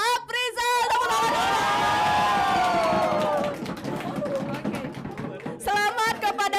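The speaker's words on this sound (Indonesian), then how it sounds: "Tepuk tangan." Applause and cheering from a crowd at an online quiz event, a short burst of clapping with whoops beneath and around a loud voice, then fading into a wash of noise.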